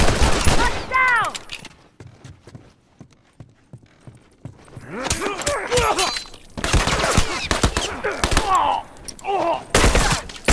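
Rifle gunfire in The Last of Us multiplayer, sharp cracks and bursts in several loud clusters separated by quieter stretches of scattered impacts.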